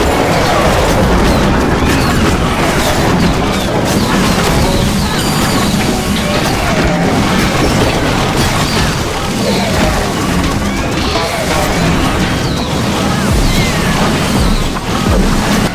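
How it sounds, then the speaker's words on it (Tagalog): Explosions and crashing impacts from a Clash of Clans battle as the Ridge Tower blows up, dense and loud throughout with repeated bursts and booms layered over continuous game effects. "Napansin nyo ba mga boss kung gaano kabilis yung pangyayari nung pumutok dito yung Ridge Tower sa gitna?"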